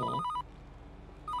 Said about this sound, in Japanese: 待って、電話来た